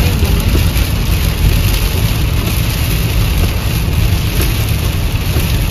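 A car drives through steady rain, heard from inside the cabin as a loud, continuous wash of rain hiss over a low engine rumble, with no talking.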